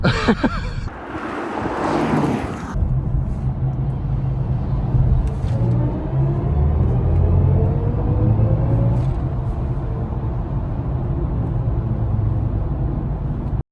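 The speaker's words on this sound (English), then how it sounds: "welcome to the 2024 BMW i4 xDrive 4D" A 2024 BMW i4 xDrive electric car driving, heard from inside as a steady low road rumble with wind noise and a brief rustle near the start, with no talking.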